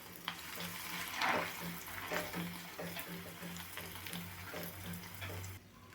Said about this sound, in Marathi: उरलेल्या उरलेल्या सुद्धा आपल्याला अशाच पद्धतीनं तळून घ्यायचं आहे